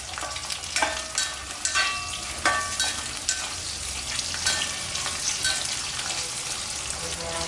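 Green chilies, shallots and garlic sizzling in hot oil in a pan for Chettinad fish curry, a loud continuous crackle and spatter close up, with occasional stirring clatter and no speech.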